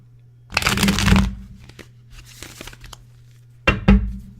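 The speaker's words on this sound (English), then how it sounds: "I like that the cards are shuffling with you guys." Tarot cards shuffled in two bursts of papery riffling and crinkling, one long flurry near the start and a shorter one at the end, close and fairly loud over a low steady hum, with quiet rustles between.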